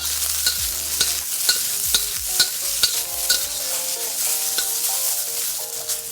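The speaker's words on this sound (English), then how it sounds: "After everything has been stir frying for about a minute to a minute and a half, we'll add the beef." Onion, scallion whites and red pepper stir-frying in a wok, with a continuous loud sizzle broken by regular scraping and clattering strokes of a spatula.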